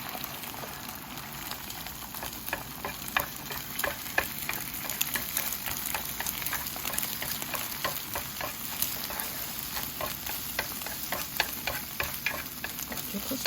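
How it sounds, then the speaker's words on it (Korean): Beaten eggs scramble into fluffy curds in a hot pan, with a constant sizzle under quick, regular scraping strokes of a spatula that continue evenly throughout. "계란을 포슬포슬하게 볶아줍니다. 가래가 이렇게 굳으면 이때부터 저어줍니다."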